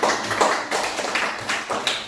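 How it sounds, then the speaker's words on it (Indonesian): A group of primary school children claps in a loose, steady rhythm, roughly a few claps per second, fairly close and lively, with no talking over it. "Tepuk tangan buat Anel."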